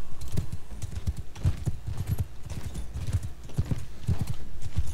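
Horses gallop in Mount and Blade 2 Bannerlord during a tournament fight, with fast, dense hoof clip-clops running continuously and close throughout, plus occasional whinnies.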